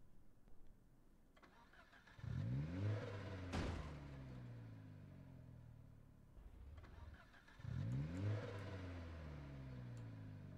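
In Project Zomboid, a damaged car engine in a crash-up derby cranks and revs twice, each burst rising sharply, then settling into a rough idle between attempts.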